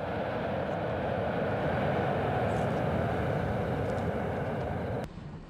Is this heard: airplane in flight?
yes